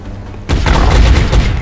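Gunfire bursts out suddenly in the XCOM video game as an enemy is shot, a loud, dense rattle of shots with booming low rumble that continues to the end.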